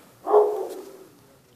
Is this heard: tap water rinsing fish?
no